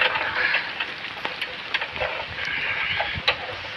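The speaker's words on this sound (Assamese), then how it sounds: "এতিয়া বৰষুণ দি আছে" Rain falling on a rider out in the open and getting soaked, heard as a close, steady hiss of drops with occasional sharper taps over a low background rumble.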